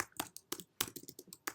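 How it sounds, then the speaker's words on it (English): Quick bursts of keystrokes on a computer keyboard while a class name is typed, crisp clicks in uneven clusters, close and alone with no talking. "I'm just typing a class name"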